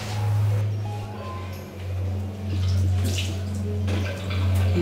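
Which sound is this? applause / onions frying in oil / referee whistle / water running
water running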